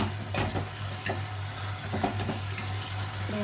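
A spatula stirs drumstick curry in a pan, making a steady close sizzle with scraping strokes at irregular intervals and no talking.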